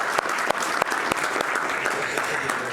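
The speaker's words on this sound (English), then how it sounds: "can we give a round of applause for Apple on this one" An audience at a tech conference talk on macOS and iOS software updates breaks into steady applause, dense clapping with a few sharp louder claps standing out, filling the room for a few seconds.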